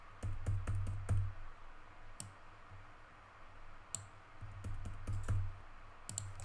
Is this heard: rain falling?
no